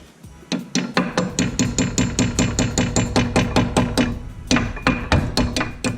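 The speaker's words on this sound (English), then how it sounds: "That might need a little tap with a hammer" A hammer taps a brake pad pin on a Brembo four-piston caliper in a rapid, even series of sharp metallic strikes, close up, with one short pause partway through.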